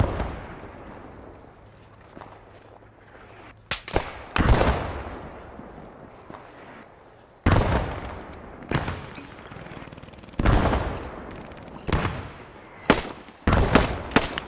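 Gunfire in the World War II game Post Scriptum during a D-Day battle on Utah Beach: repeated loud, sharp gunshots and short bursts ring out at irregular intervals over a low background of distant battle noise.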